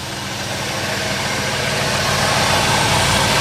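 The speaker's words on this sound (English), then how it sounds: "Got the ram's horn exhaust on there. Doesn't even have headers. Still sounds pretty good back here though." A 1956 Chevrolet 150 V8 idles with a deep, steady rumble through ram's horn exhaust manifolds without headers, growing slightly louder over a few seconds, with no talking.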